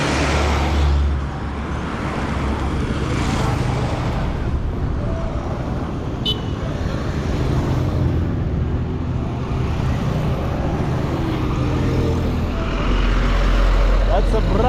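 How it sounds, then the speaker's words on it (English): Steady road traffic noise with a vehicle engine rumbling close by, a brand new truck driving along a road in Bulenga, Uganda, continuous and fairly loud with a brief toot partway through. "That's a brand new truck."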